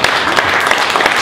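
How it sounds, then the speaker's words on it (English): Applause from a crowd at a Tea Party meeting, a brief burst of dense clapping that stays fairly loud and steady for about a second with no pause. "Give a round of applause."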